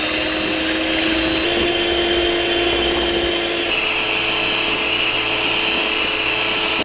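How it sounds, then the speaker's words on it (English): Electric mixer whirring steadily and loudly as it whips a vegan flaounes mixture, a continuous high motor drone with a slight pitch shift partway through. "So you got to do this with a mixer, an electric mixer."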